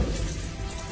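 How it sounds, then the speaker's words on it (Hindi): Water runs from a tap in a steady, unbroken hiss that stays close and fairly loud throughout, with no voices over it. "वहां तो पानी वेस्ट हो रहा है"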